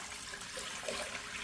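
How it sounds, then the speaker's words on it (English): Two cups of water pour into the inner pot of a pressure cooker, a steady close wash of running liquid heard alone with no talk. "I'm going to put my 2 cups of water in there"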